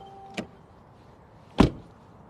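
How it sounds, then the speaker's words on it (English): Door of a 2020 Mercedes-Benz GLC 300 opening with a light click, then shutting with a solid, heavier thud about a second later, close and without talk. "Door open and close sound"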